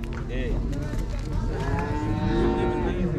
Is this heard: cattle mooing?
yes